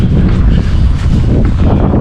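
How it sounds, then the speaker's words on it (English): Strong spring storm wind buffets a microphone outdoors in Texas, a loud, continuous low rumbling roar with gusty fluctuations and no clear speech over it. "I'm sorry about the wind, it's really windy."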